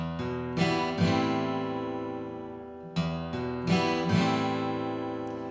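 Strummed guitar chords ring out in a slow intro, a few strums spaced apart with each chord sustaining and decaying before the next.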